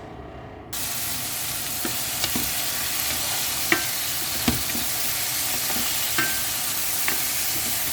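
Mung bean stew ingredients sizzle steadily in a pan. Occasional sharp knocks and scrapes of a spatula stir through the close frying hiss, with no talking.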